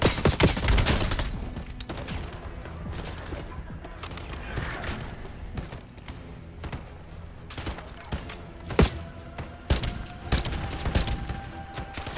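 Gunfire from a player shooting in the Black Ops 7 campaign, dense bursts of shots and booms, loud at the start and then scattered through a busy mix of game sound, with some talk over it.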